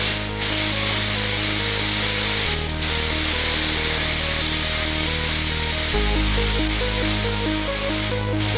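A spray gun lays base coat paint, a 2-to-1 mix of paint and reducer, onto a car bumper. The loud, steady hiss runs the whole time over a constant machine hum, and the hum's pitch steps twice.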